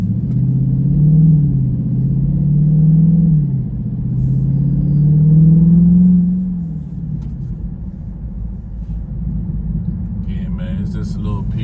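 A 2023 Dodge Charger Scatpack 392 V8 rumbles deep and close while driving, swelling in a few gentle revs before settling to a steady low drone, with a brief voice near the end.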